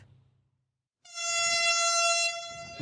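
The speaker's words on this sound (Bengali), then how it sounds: "নগরে মেট্রো রেল হুইসেল বাজিয়ে" After a brief quiet, a Dhaka metro rail train's horn blares in one long, steady, loud blast close by.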